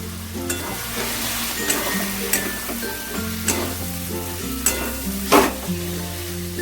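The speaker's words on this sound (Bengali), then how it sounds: "এবারে আমি চিংড়ি আর আলুগুলোকে দিয়েও একটু বেশ খানিকক্ষণ নাড়াচাড়া করব" Prawns and potatoes fry in oil with spices while a spatula stirs and scrapes the pan every second or so over a steady close sizzle, with a low hum underneath and no talking.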